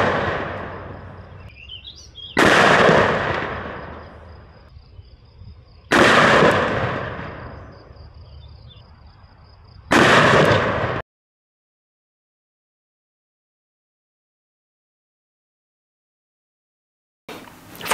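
Four massive gunshots from a .500 Smith & Wesson snub-nose revolver, each a sharp, loud blast with a long echoing decay, spaced a few seconds apart, followed by several seconds of silence and the start of another shot at the end.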